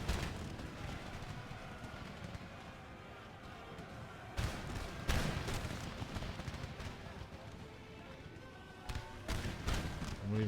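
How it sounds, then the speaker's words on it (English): Musket volleys fired on pikemen in the Empire: Total War battle game, with dense crackling gunfire, several sharp louder bursts, and a constant rumble of battle throughout. "Yeah, so we're starting to open fire on the pikemen."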